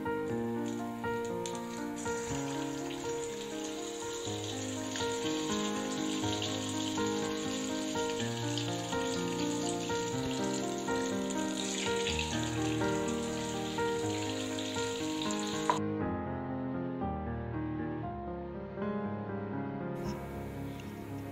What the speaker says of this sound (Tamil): எண்ணெய் சூடானதும் நம்ம இப்ப இதை பொறிக்க போறோம்.